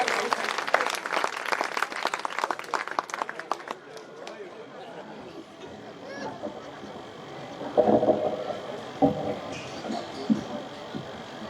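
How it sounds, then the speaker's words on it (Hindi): A crowd at an Indian poetry recital applauds with dense, loud clapping that fades after a few seconds, leaving murmuring voices and a steady background hum. "देखो जोरदार तालियां हो रही।"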